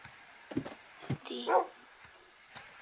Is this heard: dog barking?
yes